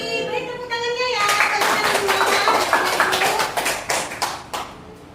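An audience in a classroom-style session claps hands together, a dense burst of applause from many people that swells, then thins into scattered claps, with a voice speaking over the start.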